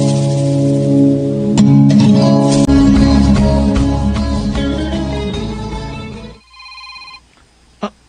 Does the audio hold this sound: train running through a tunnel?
no